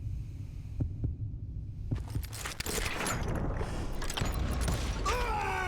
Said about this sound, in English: When he hears the heartbeat